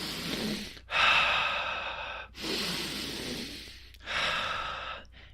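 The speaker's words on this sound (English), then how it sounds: "focus on my breathing" Slow, deep meditative breaths drawn in and let out, three long airy cycles with brief pauses between, close and clear with no talking.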